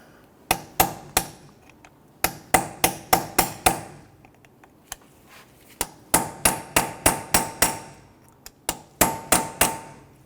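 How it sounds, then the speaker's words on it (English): A hammer strikes a punch against a dimpled axle nut on a 2006–2014 Honda Ridgeline front CV axle, making sharp metallic clangs in quick bursts of several blows, close and loud, separated by brief pauses. "We're going to use our chisel tip here, or our punch. We want to undo that little dimple."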